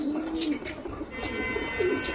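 Wild pigeons coo softly and intermittently against a steady background hiss, with a couple of low throaty calls standing out.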